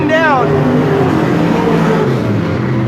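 Race cars roaring around the banked oval at Sunset Speedway in Oregon during a late-race battle, loud continuous engine drone with a car swooping past early, under excited race commentary.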